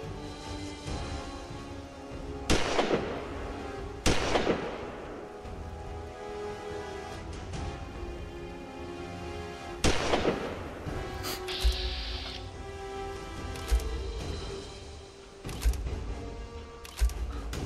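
Gunfire in a Fallout-style post-apocalyptic video game: sharp, loud shots in irregular bursts, a handful of distinct bangs spread over the stretch, over a steady background hum.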